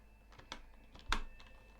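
A few scattered keystrokes tap on a computer keyboard with a broken shift key: faint, sparse clicks, one slightly louder, in a quiet room.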